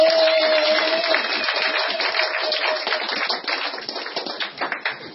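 A church congregation at a prayer centre claps and applauds for Jesus: a dense, steady wash of many hands nearby that grows more uneven and rhythmic toward the end, with a sustained tone beneath at first.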